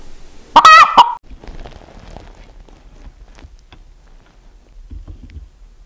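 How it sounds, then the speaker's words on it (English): An Icelandic chicken hen alone in a pen clucks in a brief, loud burst at the start, then quieter scratchy rustling and soft faint clucks follow, ending with a low murmur. "This lone chicken that's in the pen right now, that you can hear clucking in a little bit of a different way than normal, is Foggy."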